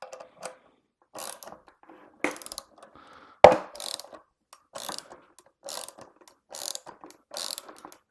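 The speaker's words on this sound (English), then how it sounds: "I like to use a socket wrench. So for my bearing puller, it is a 5/8 socket wrench." A 5/8 socket wrench ratchets a bearing puller during an electric unicycle bearing change, giving several short bursts of close, crisp clicking with brief pauses between them and no talk.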